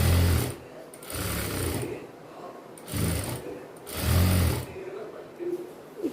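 A sewing machine stitching a silk skirt runs in four loud bursts of rapid mechanical clatter, separated by short pauses.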